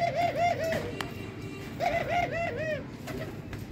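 Laughing dove pets, a pair with a blue-marked male, cooing in repeated rolling phrases, two clear bursts of soft rhythmic coos close by over a low background rumble.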